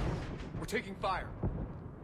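Heavy gunfire in the sci-fi shooter Mass Effect 3 lands as a few deep, booming thumps spread across the moment, mixed in with a speaking voice.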